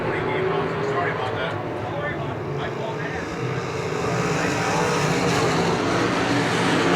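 Wingless traditional sprint cars race at Cedar Lake Speedway, a steady loud engine roar that swells slightly as the cars pass, with an announcer talking throughout.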